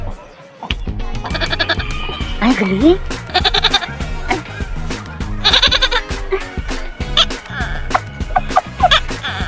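A person imitates a goat, letting out a string of wavering, nasal bleats in uneven bursts, with others talking and reacting around the calls.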